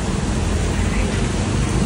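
Heavy rain pours steadily during a village fair trip in Fursungi, a loud, unbroken broadband roar of falling water with possible road noise beneath and no clear speech.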